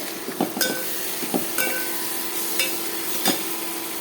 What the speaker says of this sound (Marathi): पाच मिनिट वाटण चांगलं परतून घ्यायचं.